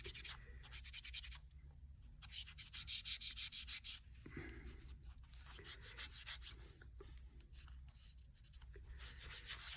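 Rhythmic rubbing strokes of a polishing cut on a scale model's clear coat, a close, dry swishing that comes in bursts with short pauses between passes.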